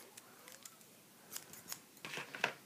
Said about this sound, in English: you want to take your scissors, put it down halfway or somewhere not too long, not too short. Cut all the extras off.